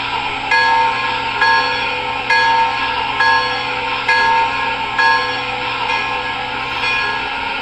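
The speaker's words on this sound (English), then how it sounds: "We have the bell here." A small electronic model train bell from the MTH DCS app rings in a steady repeating pattern, about a strike every second, clear and close over a faint background hum.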